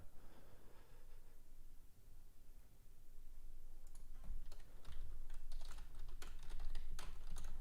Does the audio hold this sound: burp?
no